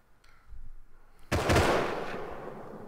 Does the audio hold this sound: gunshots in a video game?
yes